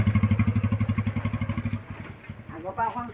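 A motorcycle engine runs close by with a steady, rapid thumping pulse that eases off partway through as a voice starts talking over it.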